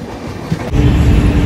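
Loud, steady rattling and rumbling of an AC double decker express train running on tracks between Tenali and Chirala, growing heavier partway through and continuing without talk.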